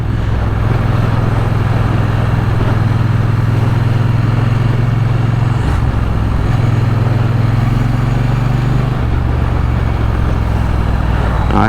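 A 2024 Triumph Bonneville T120 motorcycle under way, its engine a loud, continuous low drone from close by, with brief changes in pitch as it shifts through the gears amid steady wind rush.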